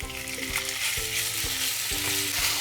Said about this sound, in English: Now we add the chicken